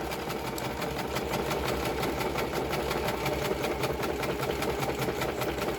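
A sewing machine runs steadily, stitching through card with a fast, even mechanical whir and rapid needle ticking, continuous and close throughout, with no voices.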